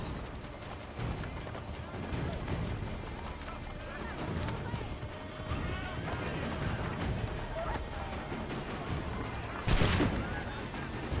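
Scattered gunshots crack through a busy Assassin's Creed III soundscape as enemies shoot at the player's horse, with hoofbeats and talk over it and one louder burst near the end.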